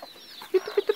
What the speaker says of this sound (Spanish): Y la gallina es brava. Es brava esta gallina.